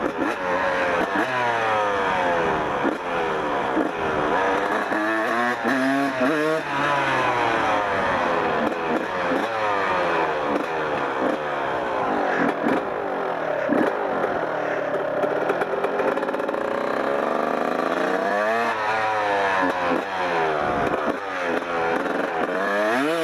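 A Kawasaki KX 125 two-stroke dirt bike engine revs repeatedly up and down, loud and close, its pitch sweeping in rising and falling waves for over twenty seconds.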